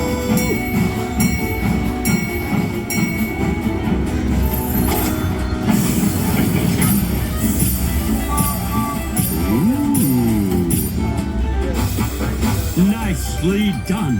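Green Express slot machine bonus feature playing a busy electronic jingle of train-themed sounds, dense with chimes and clinks, steady and loud throughout alongside casino background noise.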